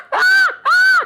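A voice artist imitates a crow's caw with two loud, drawn-out calls in quick succession, each rising and then falling away, with a short pause between them and no other sound.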